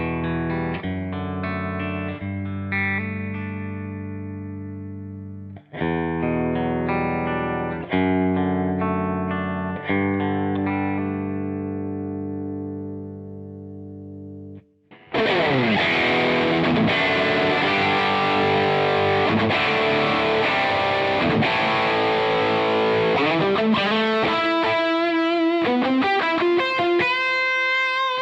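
Electric guitar with Cream T pickups in a Nik Huber Krautster, played on the coil-split setting: clean sustained chords for the first half, then brighter, busier overdriven strumming and single-note runs, loud and close with no talking.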